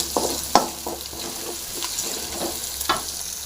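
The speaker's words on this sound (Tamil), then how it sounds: "கருவேப்பிலையும் போட்டுடலாம் அதையும் போட்டு நல்லா ஃப்ரை பண்ணிடலாம்" Curry leaves and salt frying in a pan of oil for a brinjal gravy, a steady close sizzle with occasional crackles, pops and stirring scrapes, no talk.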